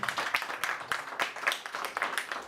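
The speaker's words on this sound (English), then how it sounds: "One more time, let's clap our hands and thank you." An audience at a live primary school debate claps together. A steady patter of many hands goes on, moderately loud and heard alone, without any talking.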